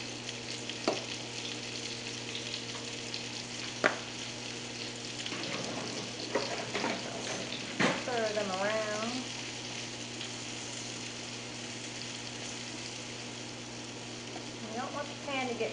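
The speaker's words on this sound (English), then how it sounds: "add in my mushrooms. And while those are cooking" White mushrooms frying in a pan with a steady sizzle, broken by occasional utensil clicks and stirring, while a person talks intermittently over the cooking.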